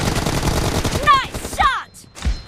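Gunfire in the PUBG mobile game, played on a Redmi Note 10 Pro phone: a rapid string of close, punchy shots over the first second, then a couple of sharper game effects and a brief final crack.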